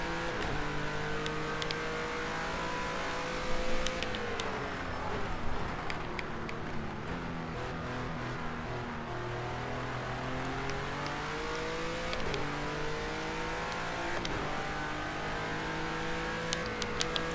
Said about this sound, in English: Hear the cars on the other side of the other end of the track, or the other side of the hairpin, slowing down.